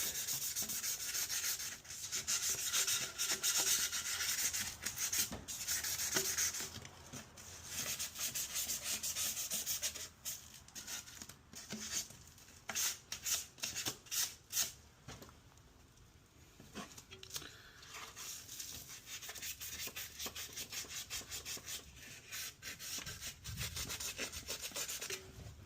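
Sandpaper rubbed by hand across an exhaust flange face on a 2006-2011 Honda Civic with the R18A1 engine, a steady raspy scraping in long continuous strokes, close and fairly loud, briefly turning choppier midway with no talking.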